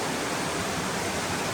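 Steady broadband rush of Laurel Falls on the Appalachian Trail, a waterfall beside a river among rocks, heard as a constant, even roar with no voices over it.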